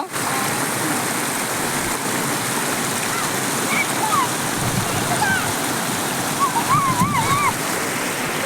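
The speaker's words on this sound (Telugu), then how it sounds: "నీళ్ళు చాలా ఫోర్స్గా వస్తలా" Rain-fed floodwater rushes forcefully through a village in a continuous broad roar, close and loud, with faint distant voices and bird-like chirps rising above it.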